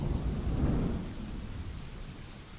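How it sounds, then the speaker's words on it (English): Rain and thunder ambience from the video game Dwarf Fortress: a dense, steady downpour hiss layered over a low rolling thunder rumble that swells early and then eases, with no voices. "I gotta get rid of the rain sounds."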